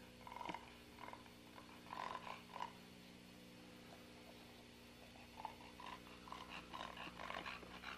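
Puppies growl and yelp in playful bursts, close by and fairly quiet, over a steady low hum, with short pauses between scuffles.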